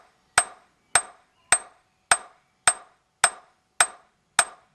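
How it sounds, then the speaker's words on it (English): Hammer peening a scythe blade: eight sharp metallic strikes at a steady, brisk rhythm, each a crisp ringing tap that decays quickly, close and alone with no talking. "I tend to speed up a bit because I've got lots of blades to peen"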